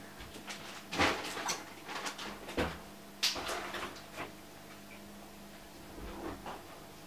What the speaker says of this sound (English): Oh, someone's knocking at the door.